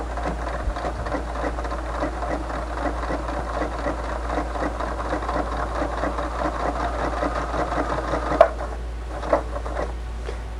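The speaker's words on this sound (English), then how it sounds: "Go ahead and drop your needle. And lock stitch, and here we go." A sewing machine lock-stitches a tote bag seam, a rapid steady mechanical patter over a low motor hum, close and continuous, with a couple of sharp clicks near the end.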